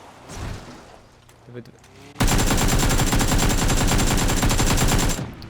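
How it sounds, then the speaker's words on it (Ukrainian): A sudden, sustained burst of rapid automatic gunfire in a video game rattles on loudly for about three seconds, following a stretch of quieter muffled sounds. "О, вже там хтось стріляє, чую"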